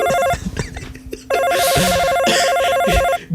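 A telephone rings with an incoming call, a loud electronic warbling ringtone repeating in close bursts, cutting off briefly before resuming.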